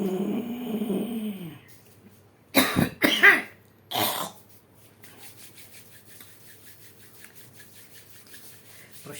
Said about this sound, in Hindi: गले में जो है एक खांसी जैसी स्थिति उत्पन्न हो जाएगी